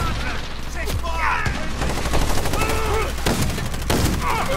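Gunfire rattles through a Modern Warfare match on the Shipment map, with repeated loud bursts and single shots stacking up over busy game noise, and voices talking over it.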